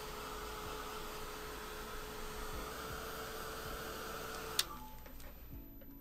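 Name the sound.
hair dryer blowing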